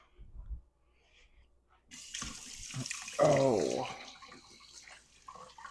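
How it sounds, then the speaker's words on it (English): Tap water starts abruptly and runs into a sink for hand washing, a steady hiss with splashing that swells briefly, after a short spoken sound. "now I gotta wash my hands."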